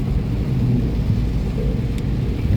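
Rain keeps falling during a drive from Mecca to Taif, making a steady, dense hiss and wash over a low road rumble from inside the moving vehicle.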